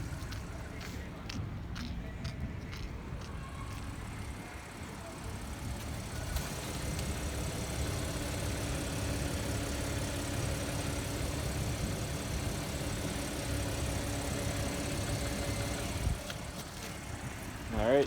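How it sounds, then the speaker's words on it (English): A 2015 Audi Q7 with a supercharged 3.0 V6 idles steadily with faint valve-train ticking, a low continuous hum with some light clicks early on. "you'll definitely hear like valve train and ticking that you wouldn't hear in person"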